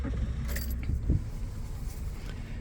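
Keys jangle briefly near the ignition of a 2011 Suzuki Alto GL manual hatchback, followed by a short mechanical clunk and a low engine rumble starting up, all fairly quiet and close.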